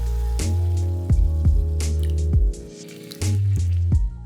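Canned tomatoes are poured into a hot pan over medium heat while baked sausage pasta is being made. Several wet, squelching plops land close by, each with a brief splatter and a soft sizzle, and no one speaks.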